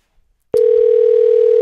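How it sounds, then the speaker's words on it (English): A steady, loud electronic tone switches on abruptly after a brief silence and holds unbroken to the end, like a telephone line tone rather than a ring. "Oh, it's ringing."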